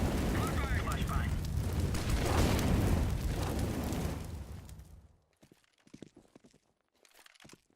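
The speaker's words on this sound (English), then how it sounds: "Throwing a flashbang." A flashbang grenade goes off in a video game, a loud, roaring broadband burst that holds for several seconds, then cuts off to near quiet with scattered faint clicks and taps.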